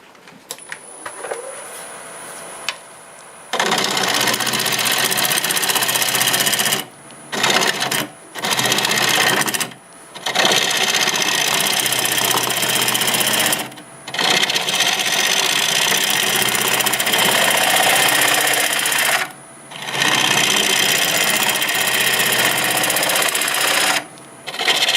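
Wood lathe spinning a blooming cherry bowl blank with a turning tool cutting, giving a loud continuous whirring and scraping hum that stops and restarts in several pauses, with no one talking.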